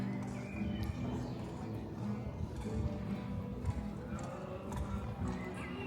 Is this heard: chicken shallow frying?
no